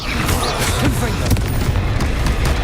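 Confringo spell blasts in Hogwarts Legacy combat, loud repeated booming bursts and crackling impacts layered over one another, with vocal sounds mixed in.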